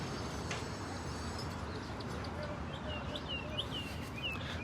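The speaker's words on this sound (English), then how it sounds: "You can hear the birds chirping in the background." Faint birds chirp in the distance, a few short tweets over a quiet outdoor hum.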